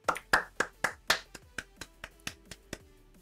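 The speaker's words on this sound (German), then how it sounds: "Kriegst du einen Applaus" Hand clapping in a quick burst of about a dozen sharp claps, loud at first and thinning out toward the end, heard alone without talk.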